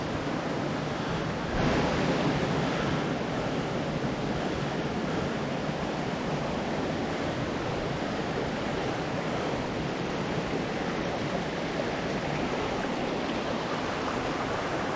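Rushing water roars continuously and evenly, a broad steady wash like a nearby waterfall or fast stream at Darnell Creek, with no voices.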